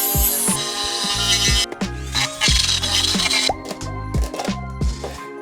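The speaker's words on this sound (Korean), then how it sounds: "구멍을 다 뚫어줬습니다. 100mm짜리 구멍." A 100 mm hole saw cutting through a sturdy Lock&Lock plastic container, loud and close, with repeated grinding bursts, rattling, and knocking thuds as the saw bites and pauses.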